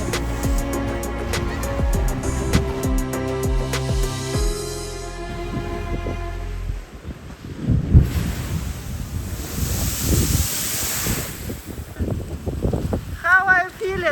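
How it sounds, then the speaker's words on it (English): Rough ocean waves off Tenerife surging and crashing in a loud roar with heavy wind buffeting the microphone, after a stretch of tonal music at the start. "The ocean is definitely very rough here"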